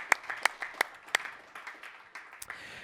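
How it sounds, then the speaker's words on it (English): A conference audience applauds a panel speaker at a session on offshore security cooperation: sparse, distinct claps ring out loud and near at first, then thin into scattered softer clapping. "A warm round of applause for him."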